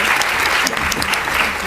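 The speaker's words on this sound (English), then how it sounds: "I want to invite everybody to give a big round of applause to our panelists." Loud, close applause from a conference audience honoring panelists at a finance plenary session, a brief dense burst of clapping with a few sharper individual claps standing out.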